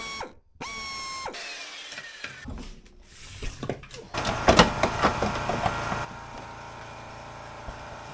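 A ratchet clicks while tightening exhaust manifold bolts on a car, with rapid close clicking and metallic clatter in bursts, then quieter mechanical shuffling, without talk.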